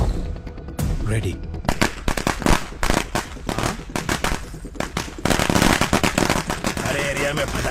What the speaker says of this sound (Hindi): अरे एरिया में पटाखा कौन फोड़ रहे रे?